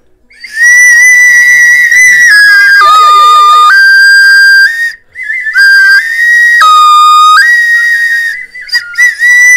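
Two Khludnevo clay whistles blown at the same time make loud, piercing, sustained tones that switch between a few pitches with short breaks, very close and alone.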